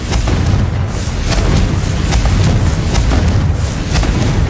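Repeated booming blasts of the Confringo fire spell in Hogwarts Legacy, a dense, continuous barrage of loud thuds and crackling bursts with no clear gaps between them.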